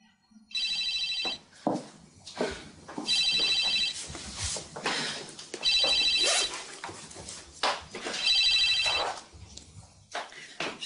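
Telephone bell ringing indoors in repeated bursts, four clear rings at a steady rhythm, with a dog whimpering, footsteps and shuffling movement between the rings.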